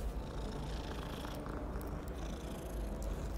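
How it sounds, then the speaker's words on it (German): A cat purrs in the video game Hogwarts Legacy, a close, continuous low rumbling purr that holds steady throughout with no talking. "Ich bin ganz lieb zur Katze."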